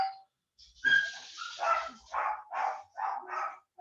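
Several dogs bark repeatedly nearby in a rapid series of sharp barks, with a short yelp at the start and a quiet gap before the barking begins.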